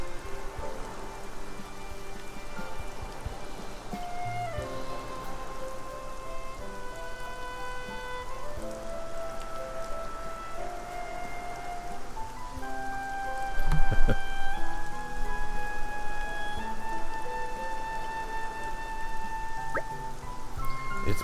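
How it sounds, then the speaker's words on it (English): Rain falls in a scene from the video game Xenoblade Chronicles 2: Torna, a steady patter of drops under sustained musical tones, with a brief louder swell partway through. "Let the rain take care of that for you, Addam."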